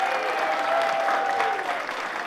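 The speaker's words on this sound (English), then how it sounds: "Big applause." Applause from an audience at a small business pitch event, a dense burst of many hands clapping that holds steady, then eases slightly toward the end.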